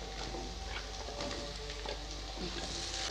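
Potatoes sizzle and fry steadily in a hot pan, a close, continuous crackling hiss with small pops and no voices.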